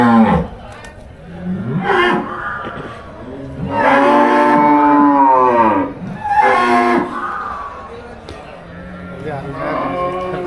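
Cattle low at Melapalayam cattle market, where Rekla racing bulls are brought in, giving several long, drawn-out moos close by amid the chatter of people talking.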